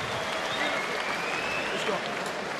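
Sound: crowd applauding at end of boxing round

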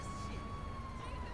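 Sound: ambulance siren in video game GTA V

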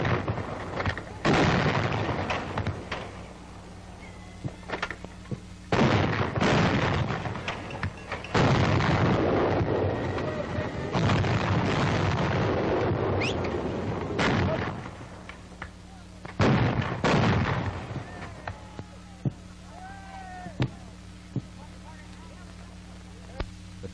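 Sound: coast artillery guns firing at towed target

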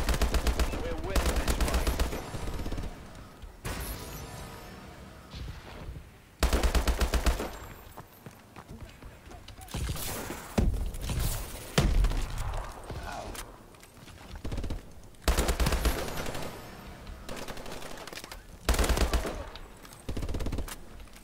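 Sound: gunfire destroying iron in Call of Duty Advanced Warfare video game

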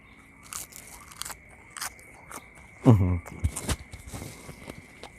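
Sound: crunchy bite of fresh raw napa cabbage

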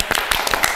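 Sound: clapping hands

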